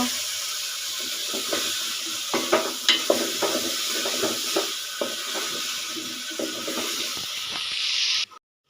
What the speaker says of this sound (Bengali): চাল কুমড়াগুলো একটু কষিয়ে নেওয়ার পরে মাঝে মধ্যে আবার একটু নেড়ে চেড়ে দিতে হবে